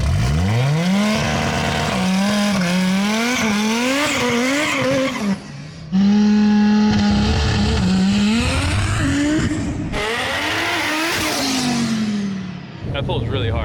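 A 1200 HP Audi RS3 accelerates hard, its loud, close engine note climbing through the gears with sharp rising sweeps and brief drops at each shift, some tire noise and a voice faintly underneath.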